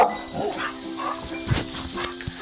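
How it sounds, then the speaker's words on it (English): A dog gives a few short barks and yips outdoors on a hot day, close by and mixed with background noise rather than standing out sharply. "It's my dog."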